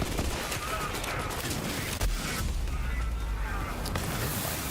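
Dense, continuous video-game gunfire from Borderlands 3 as enemies shoot at turrets, with rapid overlapping shots and booms forming a loud, unbroken wall of combat noise.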